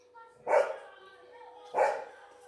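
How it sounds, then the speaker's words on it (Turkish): A dog barks twice, a few seconds apart, short and moderately close, with a faint steady background hum. "Komşumun köpeği."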